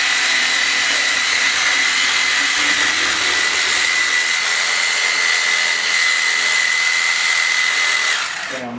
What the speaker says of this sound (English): Now we're going to break out the DeWalt.